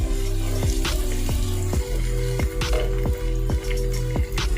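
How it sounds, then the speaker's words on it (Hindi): Onion, garlic and ginger fry in a pan for a cluster-bean curry, a steady close sizzle cut by regular spoon knocks against the pan as the mixture is stirred. "अब हमने इसमें लहसुन और अदरक डाल देनी है कटी हुई, मिक्स कर देना है।"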